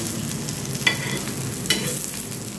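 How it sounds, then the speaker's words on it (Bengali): Boiled potatoes fry in a pan with a steady, broad sizzle. Two soft stirring scrapes come about a second apart, and no one speaks. "এইটা এইরকমভাবে লাল লাল করে ভাজতে হবে"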